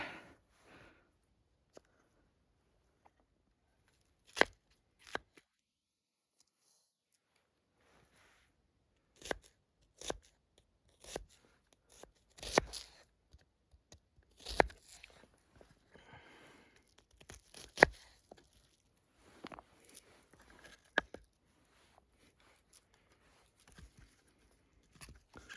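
A Cold Steel folding knife cuts through an onion outdoors: sparse, sharp crunching and tearing slices, irregularly spaced with quiet gaps, close and fairly soft.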